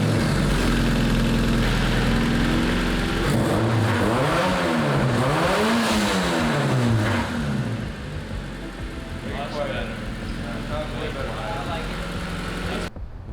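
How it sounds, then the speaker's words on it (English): A Honda Civic EK engine runs through a newly fitted downpipe and catback exhaust. It gives a loud, close idle with several rising and falling revs, then settles back to a steady rumble. "So we got our downpipe connected, we got our catback connected, and we got it all the way out to the back. Let's start it up."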